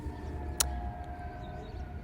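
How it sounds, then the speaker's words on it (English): Several sirens wail outside, faint and distant, as steady drawn-out tones over a low background rumble, with one sharp click partway through. "there's so many sirens"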